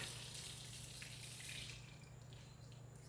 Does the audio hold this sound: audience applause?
no